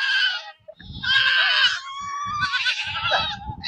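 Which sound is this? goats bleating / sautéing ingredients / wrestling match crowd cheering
goats bleating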